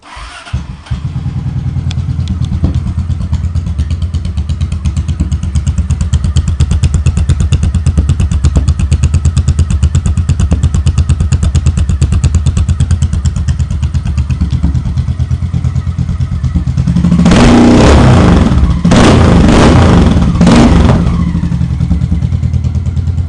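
Motorcycle fitted with Vance & Hines Cruzers exhaust starts up and idles with a loud, steady, throbbing rumble close by, then gets a couple of sharp revs near the end before settling back to idle.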